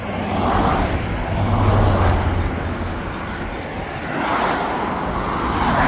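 Busy roadway traffic beside a roadside litter pickup, with cars swelling and fading as they pass by at moderate distance in a continuous rushing stream, no voices.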